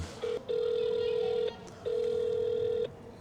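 Ringback tone of an unanswered phone call, two long steady electronic rings about a second each with a short pause between, clear and close with no voices.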